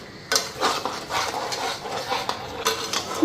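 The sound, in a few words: frying chilli powder spice paste in a pan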